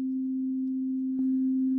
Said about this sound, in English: I can increase the output gain of it dramatically